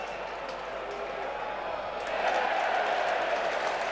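Football crowd at a Championship match between Millwall and Stoke City at Millwall's ground, a steady broadband roar that swells into a louder cheer midway and holds, distant and continuous with no clear talk.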